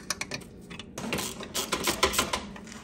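Bolts on a Miata clutch slave cylinder being torqued down, a run of close, sharp metallic ratchet clicks that starts sparse and then turns into a busier, denser clicking patter.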